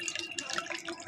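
Homemade bael fruit sherbet with jaggery strained through a sieve, a steady patter of liquid dripping and trickling into a vessel close by, with no voices.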